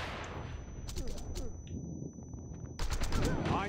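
Rapid gunfire in the video game Wanted: Dead, bursts of automatic shots and crackling fusillades with a steady background layer, growing louder and denser near the end.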